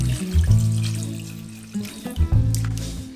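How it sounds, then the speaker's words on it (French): Tap water pouring into a saucepan of snails being prepared for garlic butter escargots, a steady close splashing flow with a brief pause, then running again, with no voices. "Je vais y ajouter de l'eau à hauteur."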